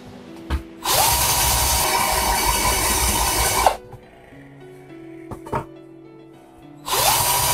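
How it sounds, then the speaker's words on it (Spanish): A power drill bores through wood while machining a bearing seat for a homemade ball mill, a loud steady whine running for about three seconds, stopping, then starting again at the end, with faint knocks between runs. "lo que voy a hacer es continuar el taladro también por este lado"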